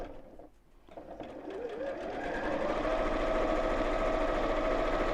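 A sewing machine stitches steadily down the sides of a half-yard fabric project, starting after a brief pause and settling into a continuous, close, even whirring drone that holds to the end.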